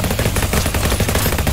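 Rapid nail gun fire in the zombie tower defence shooter GROSS, a loud, continuous stream of sharp mechanical shots in a fast, steady rhythm.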